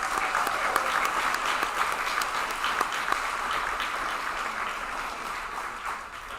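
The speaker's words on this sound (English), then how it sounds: "let's give her another round of applause." Sustained audience applause at a disability mentoring kickoff reception, a steady wash of many hands clapping that holds evenly and fades slightly at the end.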